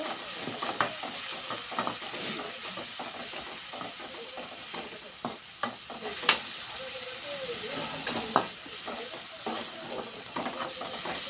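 Tomatoes with turmeric frying in a pan, stirred repeatedly: a continuous close sizzle and hiss with scraping strokes and small knocks of the spoon throughout, no talk over it.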